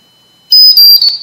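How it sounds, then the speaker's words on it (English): A cheap piezo buzzer of the kind used in a coffee pot, sounding a loud, shrill high-pitched beep that starts abruptly after silence and holds steady with a slight stutter before fading. "think of this horrible beeping in a coffee pot"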